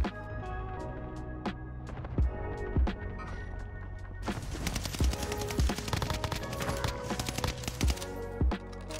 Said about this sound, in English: Mate, you can hear your gun from anywhere